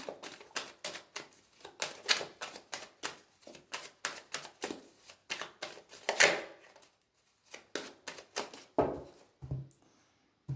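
A deck of cards being shuffled and cut, with quick riffling bursts and crisp slaps repeating in an uneven rhythm, close and fairly quiet, with short pauses between handlings and no talk.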